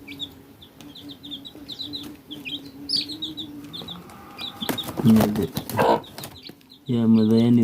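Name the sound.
mother hen clucking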